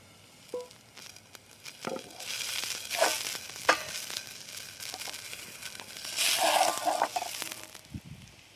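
Potato bhaji frying in hot oil, a soft continuous sizzle with brief crackling bursts and occasional stirring or scraping rising and falling close by.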